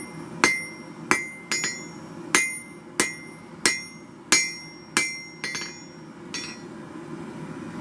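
A hammer strikes hot steel on an anvil while a knife is forged, about a dozen sharp ringing blows in a steady rhythm, close and loud, with the last few softer.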